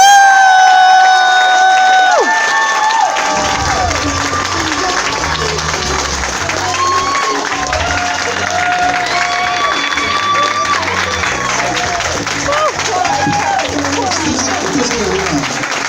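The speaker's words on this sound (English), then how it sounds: "please give a massive round of applause for Kappa" A crowd at a fur convention's closing ceremony bursts into loud applause, cheers and whoops, rising and sustained as music fades out beneath the clapping.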